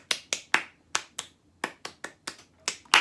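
A series of about a dozen sharp, crisp hand claps in an uneven rhythm, close and distinct, with no talking.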